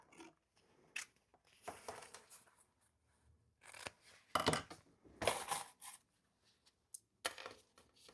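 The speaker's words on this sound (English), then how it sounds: "I'm just going to trim the excess." Scissors snip away excess material while shaping a custom croc, giving several short, close cutting bursts separated by pauses.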